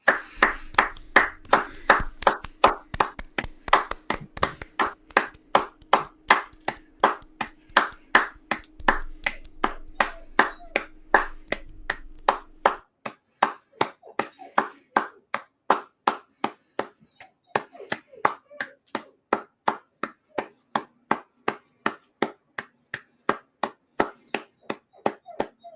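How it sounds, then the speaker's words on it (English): Steady, evenly spaced hand claps during a minute's applause at a West Ham United vs Aston Villa football match, sharp and close, with a faint murmur beneath them through the first half. "I'll give them a minute's applause as well"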